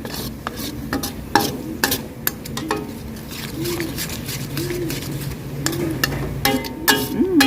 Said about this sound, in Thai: แล้วก็คนต่อเลยนะคะ